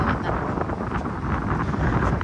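Strong wind buffets a beach, roaring steadily and loudly across the microphone with constant gusting rumble and no pauses, close and harsh throughout.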